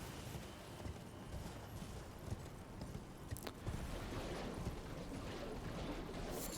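Torrent, the spectral horse in Elden Ring, gallops with a steady run of soft hoofbeats under a dense, noisy game ambience, faint and somewhat buried throughout.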